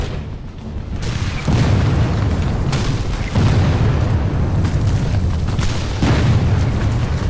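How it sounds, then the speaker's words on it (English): Civil War battle at Gettysburg, with a continuous heavy roar of artillery shells and gunfire and deep repeated booms swelling every second or so, loud and dense with no voices. "Bullets and shells fly in all directions."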